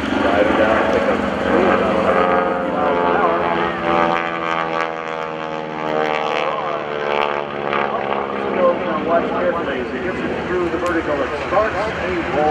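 World War II propeller warplane diving and rolling in airshow aerobatics, its engine roaring loudly with a sweeping drone that shifts in pitch as it passes, while a commentator speaks over a loudspeaker.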